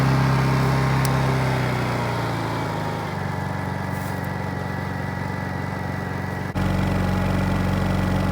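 Honda EU2200i inverter generator running with the choke and eco throttle in use, a steady close engine hum whose tone drops slightly after a few seconds and then steps up again near the end, with no speech.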